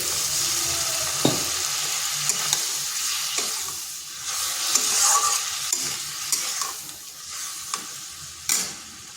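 A little water goes into a pan of spice paste cooking for a vegetarian potato and pointed gourd curry, setting off a steady close sizzle with scattered stirring clicks and scrapes, no voices.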